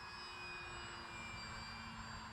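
A Durafly Tundra RC plane taking off at an airfield gives a faint, steady, high-pitched motor and propeller whine that holds evenly throughout, with no talking.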